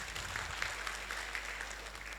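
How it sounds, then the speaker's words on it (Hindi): An audience at an event applauds to welcome a guest onto the stage, producing a brief, faint, steady patter of clapping under a low hum. "श्रीरंगम साहब का आप तालियों से एक बार स्वागत कीजिए प्लीज़"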